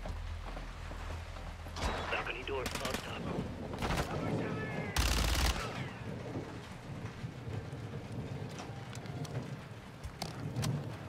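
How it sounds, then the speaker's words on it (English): Rapid gunfire in Call of Duty Modern Warfare 2 on a ship level, sharp loud bursts repeating through a steady roar of rain-like game ambience, with a voice talking at times. "God, this gun shoots quick."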